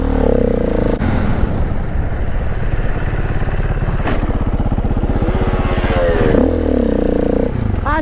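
A KTM EXC 125 two-stroke supermoto runs loud and close throughout, its buzzy engine note dipping and rising as the brake is pulled and gradually released, with a brief revving surge near the end.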